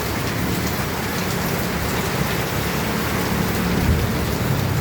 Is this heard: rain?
yes